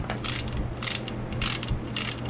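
A ratchet wrench clicks in four quick bursts of rapid ratcheting, close and crisp over a low hum, while work goes on installing the covers and heads on a 6.0 LS engine.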